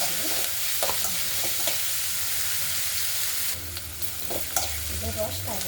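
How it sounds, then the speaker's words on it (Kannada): Onions roasting in a pan for an okra stir-fry, a constant bright sizzle with scraping stirs of a spoon across the pan, the frying getting heavier in the second half, no talking. "ಇದು ರೋಸ್ಟ್ ಆಗಿದೆ ಈರುಳ್ಳಿ."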